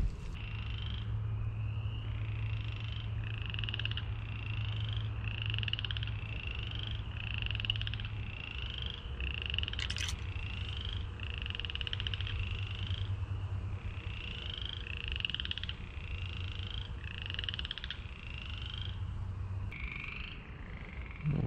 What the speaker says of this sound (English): Tree frog doing a lot of chattering.